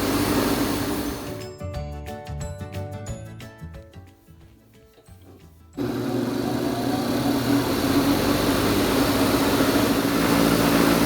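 A wood lathe spins a 2000-year-old bog oak pen blank under sanding, a steady loud motor whine with broadband friction hiss, broken midway by a few seconds of irregular clicking and rattling before the steady whir resumes.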